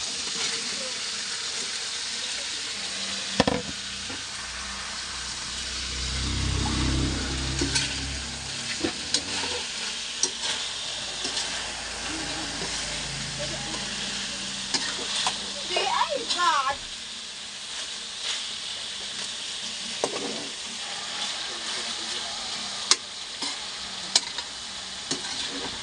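Saba bananas frying with pork adobo in a pan, a steady sizzle with stirring scrapes and occasional utensil clanks, voices talking over it.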